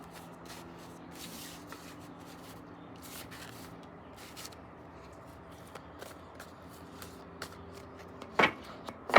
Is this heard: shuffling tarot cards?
yes